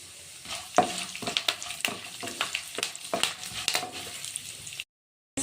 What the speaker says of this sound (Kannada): ಶೇಂಗಾ ಬೀಜ ಕಡಲೆಬೇಳೆ ಎಲ್ಲ ಚೆನ್ನಾಗಿ ಫ್ರೈ ಆಗಿದೆ ಎಣ್ಣೆಯಲ್ಲಿ